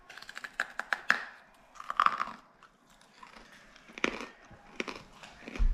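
Close, crisp crunching as freeze-dried candy is bitten and chewed, rapid brittle cracks in clusters with brief pauses between bites.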